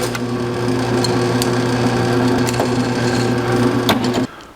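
A power drill bores 1/8 inch pilot holes into the passenger seat base of a 1949 Chevrolet gasser, a steady loud whirring grind lasting about four seconds before cutting off abruptly.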